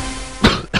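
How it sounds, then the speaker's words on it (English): A man gives a short, sharp cough, two quick bursts close to the microphone in under a second. "it's like those coughs that you just can't stop"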